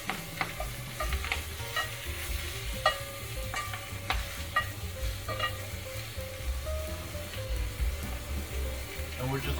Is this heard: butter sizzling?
yes